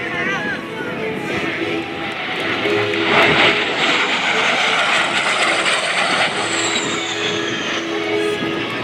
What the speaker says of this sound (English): Just a beautiful shot of this jet.